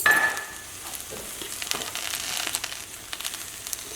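Garlic sizzling in a hot pan for chicken meatballs, a steady crackle close by with soft stirring scrapes and taps running through it.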